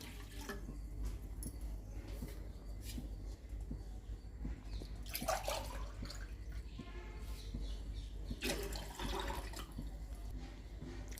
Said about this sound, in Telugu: దాంట్లో 2 గ్లాసులు వాటర్ పోస్తున్నానండి